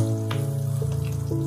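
Beaten eggs and chopped scallions fry in a pan over low heat for a scallion scrambled egg dish, giving a steady, even sizzle over a low hum with no talking.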